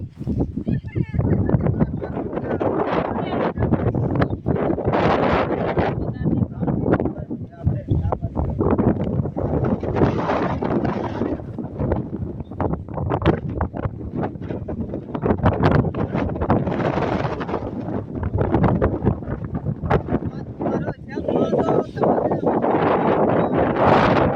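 Strong wind gusts across an open peanut field under cool, overcast skies, a steady, loud buffeting rush on the microphone lasting throughout, with a voice talking beneath it.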